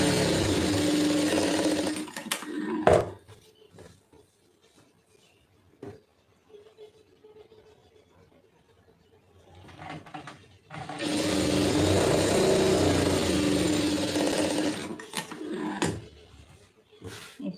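A sewing machine stitches the join of a blouse lining in two runs, a short opening burst and a longer steady whirring stretch, close and loud, with quiet handling clicks between.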